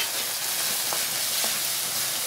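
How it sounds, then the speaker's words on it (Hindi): Chicken white karahi sizzles steadily in a hot pan while being stirred, a continuous loud frying hiss with faint scrapes of the spoon and no talk. "और अब हम इसे अच्छे से मिक्स कर लेंगे"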